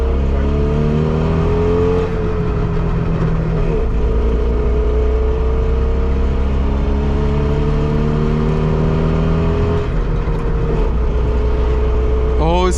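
A Trabant 601S engine drones steadily while the car drives, with rising and falling harmonics as it pulls through the gears; the worn engine has noisy bearings and an aging carburetor, and it runs loud and close throughout.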